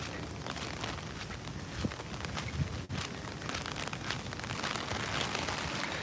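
Typhoon rain falls outside Tokyo's Olympic Stadium, a steady, faint patter and hiss of drops on surfaces with a few closer taps and a brief bump, no voices.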